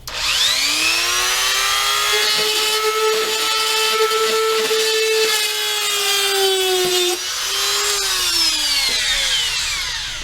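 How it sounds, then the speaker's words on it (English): A Dremel rotary tool whines steadily at high pitch for about ten seconds while drilling a small hole, its tone dipping briefly near the end as it bites into material; loud and close, no talking. "I'm going to drill a small hole straight through the middle"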